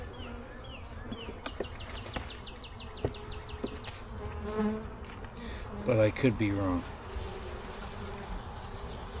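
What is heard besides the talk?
honeybees buzzing at a beehive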